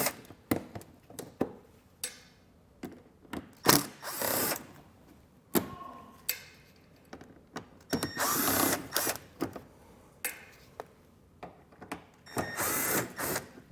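A power driver removes T15 Torx screws from a wheel well liner in a series of short, close whirring bursts separated by quiet gaps, with occasional clicks and handling noise.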